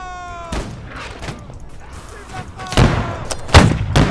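Musket volleys in the Napoleonic-era battle game Holdfast: Nations at War, several loud sharp cracks with booming tails fired one after another, the last ones closer and louder, over a quieter stretch with distant shots.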